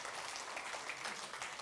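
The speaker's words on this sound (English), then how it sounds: "Round of applause for Taz." Applause from a live audience at a talk, a steady wash of clapping that runs evenly and moderately faint throughout, with no voices over it.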